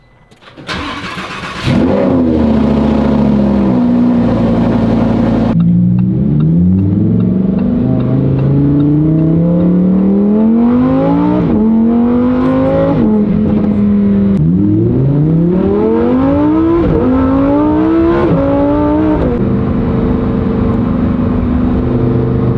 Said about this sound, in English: There's nothing like a cold start on a naturally aspirated V10 Lambo